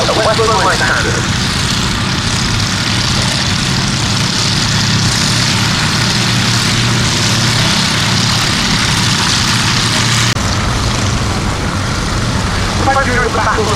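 A pair of Westland Lysander propeller aircraft flying at an airshow display, a steady, loud drone of engines and propellers filling the whole span with a slight shift near the end.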